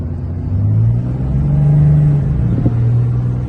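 A 5.9 Cummins diesel truck fitted with a Smarty Jr tuner accelerates hard from a 50 mph roll, its low engine drone rising and steady throughout, loud and close from inside the cab.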